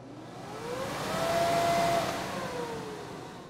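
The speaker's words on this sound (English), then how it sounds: "I'm going to start with just the blower." An electric blower spins up while powered from an inverter, a rising whine that swells to a steady peak midway and then eases back, heard alone at moderate loudness.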